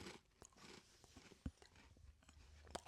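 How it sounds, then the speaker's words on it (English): Crunchy granola bars being bitten and chewed close to the mic, with scattered crisp crunches and soft mouth sounds at a quiet level, a sharper bite standing out midway. "This is what it looks like when we eat crunchy granola bars."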